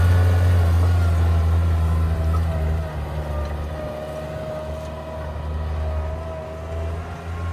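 Fendt 942 six-cylinder tractor with a manual gearbox, its engine running steadily as a deep, continuous drone that stays close and loud, easing slightly in level partway through.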